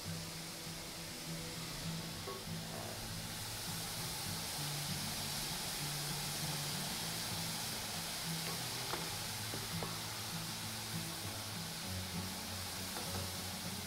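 Pretzel dough bubbles and simmers in a baking soda bath, a steady low fizzing and gentle sizzle with faint occasional ticks, continuous and fairly quiet, no talking.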